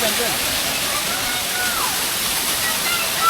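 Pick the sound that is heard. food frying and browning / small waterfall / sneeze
small waterfall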